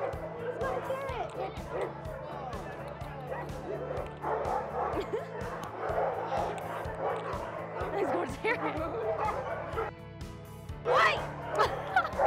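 A dog at a dog park in Da Lat barks and yips repeatedly while tearing at paper. The close, busy barking sounds under constant chatter and excited voices.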